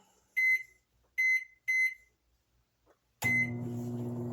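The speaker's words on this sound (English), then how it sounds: "So I'm putting it in the microwave" Three short, high-pitched beeps from a microwave oven as it is set for one minute, then a pause and a final beep as it starts running with a steady low hum, while a strawberry cake heats inside.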